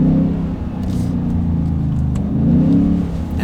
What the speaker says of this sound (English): and it sounds just like a big V8 should